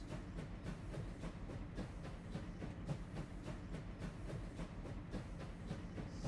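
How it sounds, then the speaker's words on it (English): A steam train in the Farming Simulator game runs along the track, a continuous rolling clatter of wheels with repeated rhythmic clicks and a soft hiss, moderately quiet and steady with no voices. "I do love a cool steam train."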